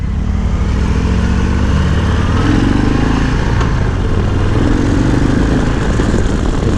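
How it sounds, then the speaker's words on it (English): 2020 Harley-Davidson FXDRS ridden hard, its engine droning loudly and steadily close by while gears shift with firm clanks and the revs drop and climb between them. "Every time I shift, you hear a nice clank right into the next gear"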